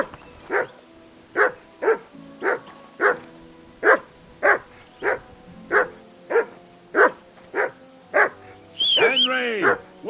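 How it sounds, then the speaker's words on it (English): A dog in Kingdom Come: Deliverance II barking in a steady, evenly spaced series of about fifteen sharp barks, then a short whining yelp at the end. "Whistle at that mutt of yours to stop barking!"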